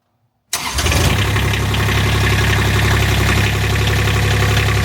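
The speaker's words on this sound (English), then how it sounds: "I'm just going to go start the engine, let it run for 5-10 seconds" A Kubota RTV-X utility vehicle engine cranks and catches after half a second of silence, then settles into a steady, loud idle that rumbles on without a break.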